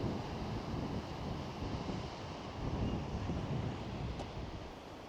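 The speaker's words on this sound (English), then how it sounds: "It's always nice to watch the waves crashing against the rocks." Waves crash against rocks on the Cornwall coast near Lizard Point, a steady broad rushing surf with gentle swells, mixed with buffeting wind across the microphone and no voices.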